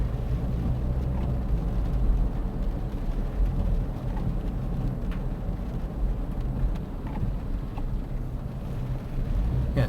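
Steady low rumble of a car driving through rain on Riverside Drive between Burbank and Griffith Park, with continuous road and wet-surface noise filling the interior and no one speaking.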